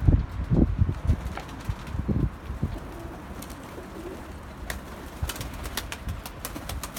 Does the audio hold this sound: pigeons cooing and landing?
yes